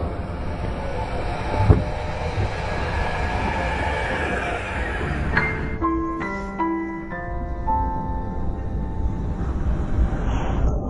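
A train rumbles steadily nearby, a low continuous roar, then tonal horn-like chimes or signals ring out in the second half.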